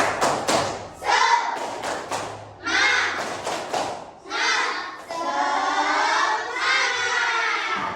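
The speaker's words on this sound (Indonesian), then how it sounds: "ayo tepuk semangat" Schoolchildren in an Islamic religious education class do a spirit clap, a quick run of sharp rhythmic claps and thumps that gives way to loud group shouting and cheering close by.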